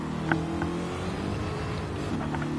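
Trans Am series race car with twin exhaust running on track, a steady engine drone with a slight rev, heard from a distance without voices.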